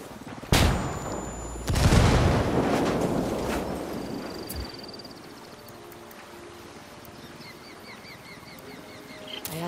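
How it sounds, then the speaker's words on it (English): A flashbang lands and detonates in the video game Ghost Recon Wildlands, with a sharp bang and then a second louder blast whose roar decays slowly, leaving quiet ringing and faint in-game ambience. "Throwing a flashbang."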